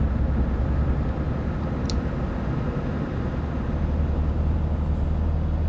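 Scania truck engine with an upgraded engine sound mod in Euro Truck Simulator 2, a steady loud low drone and rumble held throughout with no talk.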